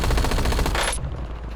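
Rapid automatic gunfire from Peacekeeper and Razor weapons in a shooter video game, a loud dense burst of shots that cuts off abruptly, followed by a quieter tail with no talking.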